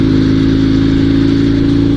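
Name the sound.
Dnepr sidecar motorcycle engine at full throttle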